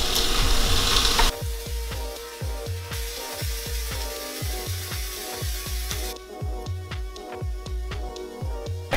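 Flat iron steak frying in canola oil, with a steady close sizzle punctuated by repeated low thuds and scrapes as it is moved in the pan, loud at first then settling.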